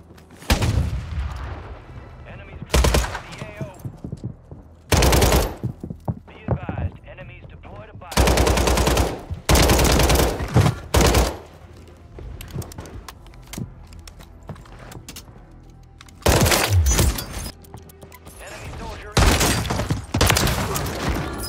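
Gunfire in the Warzone 3 video game, including a Lockwood 680 sniper rifle, comes as loud, sharp bursts and shots in repeated clusters separated by quieter gaps, with occasional talk between them.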